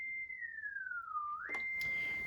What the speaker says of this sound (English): So this is our sine wave. So basically this turns the fader into a synth.